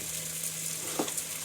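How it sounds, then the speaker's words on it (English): Cut eggplant sizzling in a hot pan as it is stirred, a steady soft frying hiss with a brief scrape of the utensil, quiet and close with no talking. "Give this a bit of a stir quickly"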